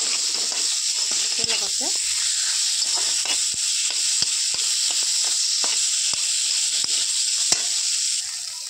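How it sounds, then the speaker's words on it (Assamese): Curdled milk sizzles steadily in a pan while a spoon scrapes and stirs it in repeated sharp strokes, with a brief voice in the background. "এতিয়া মই ইয়াতে লাৰি থাকিম"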